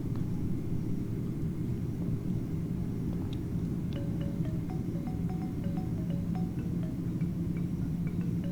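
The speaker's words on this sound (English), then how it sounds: "It means that the plane is really landing." A steady, dense rumble of a passenger plane's engines and airflow fills the cabin throughout the descent with flaps extended on a West Africa flight, with faint small beeps and tones over the drone.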